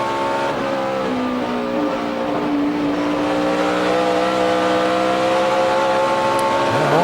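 A NASCAR Nationwide race car at the 2012 Sargento 200 on a road course drones loudly at steady high revs, its engine note climbing and then stepping as it shifts from second to third gear, with continuous engine roar throughout.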